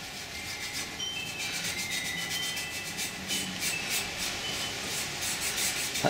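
A finger rubs finish onto a power-carved wooden stool, giving a soft, steady scratchy rubbing in quick strokes, close and quiet with no talk.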